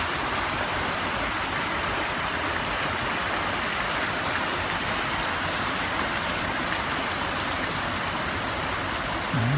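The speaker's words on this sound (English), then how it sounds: "You can hear the water crashing by." Rushing rainforest stream below Piroa Falls, New Zealand, with steady broadband water roar filling the whole stretch, loud and continuous with no voices.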